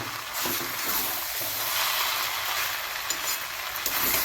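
Chow mein noodles are tossed and stirred with Maggi masala in a hot pan, giving a continuous bright sizzle with scraping strokes and a few sharper clicks, close and steady.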